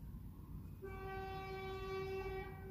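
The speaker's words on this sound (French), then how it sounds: "Et là, c'est une voiture qui klaxonne." A car horn honks outside as one sustained tone lasting about two seconds, faint and distant over low background rumble.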